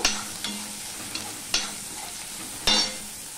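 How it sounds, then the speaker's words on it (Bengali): Grated garlic and onion fry in a pan, with a steady soft sizzle and a few sharp stirring scrapes and knocks of a utensil against the pan, close by with no talk. "আমি ভালো করে গ্রেট করা রসুন পেঁয়াজটা দিয়ে দিচ্ছি, সেটা ভালো করে আমি ভেজে নেব"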